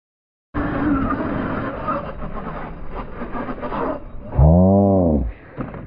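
An Arrma Outcast RC car scrapes and rattles along the ground, then its motor gives a short, loud whine that rises and falls before cutting off.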